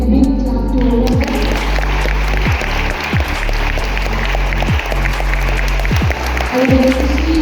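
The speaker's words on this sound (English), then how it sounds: "So can we give a big clap to all of them?" Students and staff clap together at a school training event, a continuous loud patter of many hands with a low hum underneath and a few thumps.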